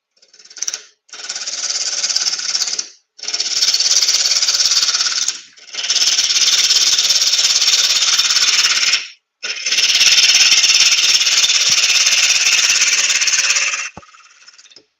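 Wood lathe turning at about 1,000 RPM as a half-inch bowl gouge cuts the spinning blank, producing four long, loud rasping bursts separated by brief pauses, close and with no talk.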